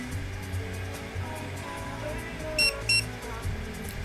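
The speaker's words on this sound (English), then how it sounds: "should beep twice" An Ankermake M5 3D printer gives two short, high electronic beeps in quick succession, faint against a low hum of room noise.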